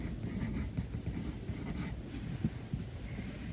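Pencil shading on paper, a steady dry scratchy rubbing that continues close and alone throughout.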